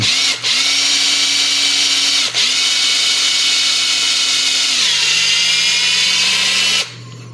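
Close, loud drilling into resin-filled plastic runs continuously for several seconds with two quick dips in speed, then the pitch drops under load before the motor stops.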